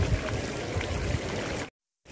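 Water steadily pouring and splashing in the fountain of Piazza della Rotonda in Rome, opposite the Pantheon, fed by the Aqua Virgo aqueduct; an even, close rushing wash that cuts off abruptly near the end.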